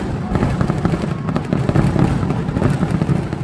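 Thrissur Pooram early-morning fireworks display crackling and booming in a dense, continuous barrage of rapid bursts, loud and fairly close, with no clear gaps between reports.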